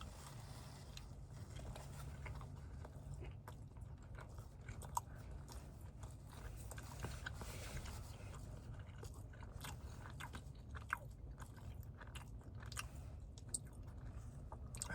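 Breakfast sausage with cheese being chewed up close, soft wet bites and mastication continuing steadily with small crunchy clicks over quiet background.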